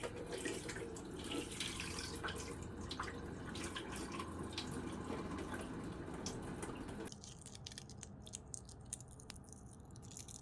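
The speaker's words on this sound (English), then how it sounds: "add cold water from the tap to here" Cold water runs from a tap into a pot as a steady, close rushing flow, then shifts partway through to a lighter, drippier splashing. No voices are heard.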